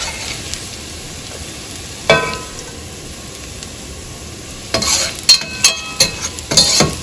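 Chicken pieces frying in hot oil for homemade biryani, a soft continuous sizzle with a few louder bursts of crackling and stirring clatter toward the end.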